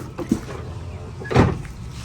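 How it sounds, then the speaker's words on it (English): Doors of a Ford F250 6.7L Powerstroke pickup truck open during a fuel filter change, with a light latch click followed by a louder clunk and rustle, heard close up. "So let's go ahead and open the doors."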